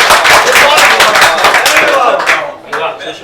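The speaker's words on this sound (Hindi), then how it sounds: "एक बार तालियों से मेरा हौसला बढ़ा दो" Audience at a mushaira poetry gathering in Kurla, Mumbai claps for the poet, a loud, close burst of dense applause that thins out toward the end.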